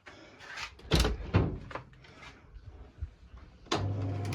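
Door opening and shutting in an old building beside a quiet road, with sharp clunks and a latch rattle at close range, followed by a brief scraping movement.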